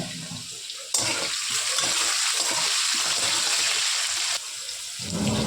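Potatoes fry in oil in a pan with bay leaves, giving a loud, continuous sizzle that swells suddenly as ingredients hit the pan and drops back near the end.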